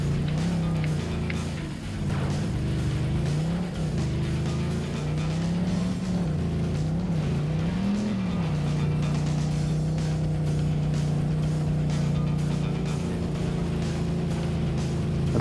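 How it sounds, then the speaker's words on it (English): Steady, loud engine drone of a car tearing at high speed through forest in the racing game Fuel, pitch wavering up and down with revs in the first half before settling into a constant roar. "It's probably not a good idea to drive 140 kilometers an hour through forest in your normal car."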